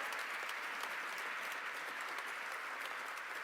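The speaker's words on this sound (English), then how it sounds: "a round of applause." Applause from an audience at a New York mayor and governor's public announcement event, with even, steady clapping from a sizable crowd throughout, fairly soft and somewhat distant.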